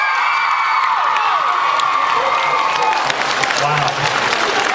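Audience at a Supernatural Comic Con panel bursts into loud applause with cheering, whoops and shrill screams, a dense roaring crowd that stays intense throughout.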